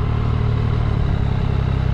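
A Triumph Street Triple S motorcycle engine running steadily nearby, a dense rough rumble with clattery mechanical texture and no clear rise or fall.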